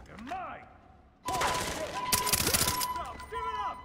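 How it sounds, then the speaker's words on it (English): Gunfire from a powerful gun in the video game Far Cry 3 erupts after a quieter moment into loud, rapid bursts of shots that continue steadily to the end. "This gun is powerful."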